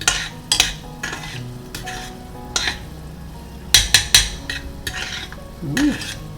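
Garlic frying in a pan, soft sizzling under repeated stirring, with several sharp scrapes and clinks of a utensil against the pan.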